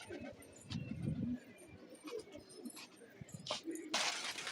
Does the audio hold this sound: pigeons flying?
yes